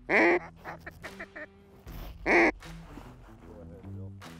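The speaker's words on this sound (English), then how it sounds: "And the ducks are coming in droves." Mallard ducks quack in a field near a large lake in South Dakota during a November hunt, two loud bursts of raspy quacking separated by quieter calls, with people speaking softly in between.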